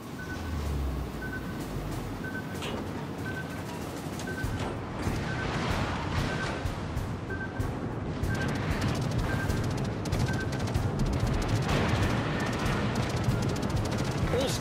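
Naval gunfire from warships in a naval combat video game, a dense, continuous barrage of booming shots and blasts layered over a steady rumbling bed, loud and sustained with scattered sharper impacts throughout.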